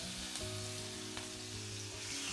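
Green chilies and asafoetida sizzle loudly in hot oil, a dense continuous crackle with a couple of sharp pops and no talking.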